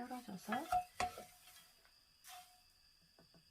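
Laver seaweed fries over low heat in perilla oil in a pan, giving faint, sparse crackles and pops mixed with a few clinks of stirring utensils against the pan, while a voice briefly speaks.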